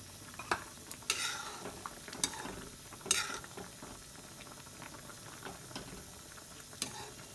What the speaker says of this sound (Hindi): कोफ्ता डाल कर बड़का देबै।